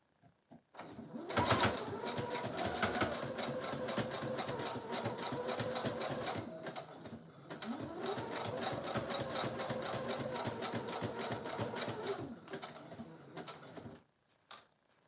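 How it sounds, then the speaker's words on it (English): A sewing machine runs a zigzag stitch around a circle on a recycled food box cover, its needle chattering in a fast even rhythm for long stretches, pausing briefly midway and stopping near the end, close and clear. "I'm gonna do a zigzag stitch. Yeah, I'll just keep it like that, and I'm gonna do my best to sew around the circle here."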